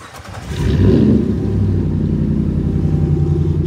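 A truck with about 120,000 kilometres on it cranks and fires up, a brief starter churn followed by a deep roaring engine rumble that settles into a loud, steady idle up close.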